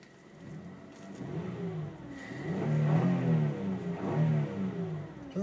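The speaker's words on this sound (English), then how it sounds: "I'm not going to rev it any harder than that. It makes a pretty decent sound." A 2012 Ford Escape Limited's V6 engine revving, rising in pitch through two swells of throttle from a steady idle, heard close and alone.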